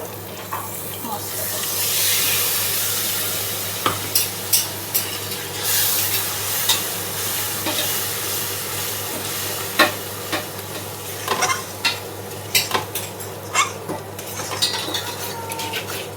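Red chilli powder and garam masala fry in oil in a pan for kali paneer, a steady close sizzle overlaid with repeated sharp scrapes and clinks of a spoon stirring against the pan.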